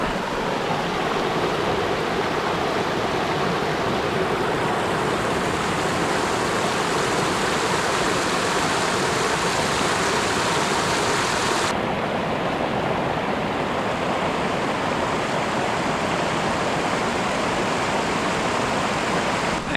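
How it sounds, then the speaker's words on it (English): Steady, full rush of a backcountry creek in Montana, fed by water spilling out of a nearby lake, running close and loud without a break for the whole stretch, with no voices over it. "That creek is sounding good."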